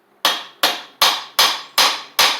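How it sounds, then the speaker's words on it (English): Six firm, evenly spaced hammer blows strike a knocking Briggs engine on an Eagle Star Noma rider, each a close, loud metallic knock with a brief ring, in a steady rhythm. "Okay, lightly tap with a hammer."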